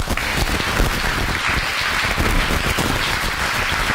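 A church congregation applauding together: dense, steady clapping that fills the whole stretch at an even, loud level, with no pauses or talking.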